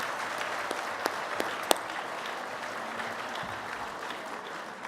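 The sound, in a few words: audience applause at awards banquet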